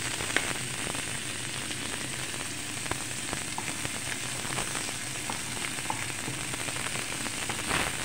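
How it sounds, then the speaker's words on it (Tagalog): Onion frying in a pan sends up a steady, dense sizzle with faint crackles, continuous and close, with no talking over it. "I-half cook natin ang ating onion."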